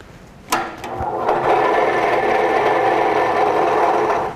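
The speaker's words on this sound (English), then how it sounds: "Adjust the speed of the scroll saw to the correct speed." A scroll saw set to 1100 strokes per minute starts up with a sharp onset, then runs at a steady, close, loud buzzing hum with no talk over it.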